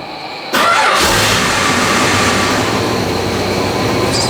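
A Hemi engine in an International truck, fitted with a new exhaust and carburettor, bursts into a loud, rough, sustained roar after a brief quiet moment and holds steady and close.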